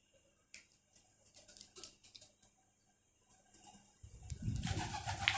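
Homing pigeon chicks give soft, faint cooing and rustling in a quiet loft before a louder scuffling noise takes over near the end.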